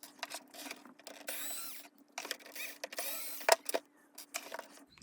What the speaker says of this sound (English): And we'll take out the screw.